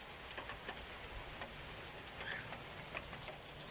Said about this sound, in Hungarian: Jégeső!